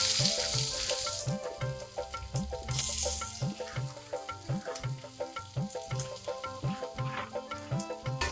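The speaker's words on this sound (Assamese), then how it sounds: "অলপ সময় ভাজি ল'ম, পিঁয়াজখিনি ৰঙচুৱা হোৱালৈকে" Onions fry in hot oil with cumin seeds for an Assamese potato fish curry, giving a continuous close sizzle punctuated by rhythmic scraping of a stirring utensil against the pan.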